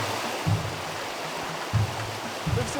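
A shallow rocky creek flowing at a crossing on the Old Telegraph Track, a steady rushing babble heard up close, with a few dull low thumps rising briefly through the constant water noise.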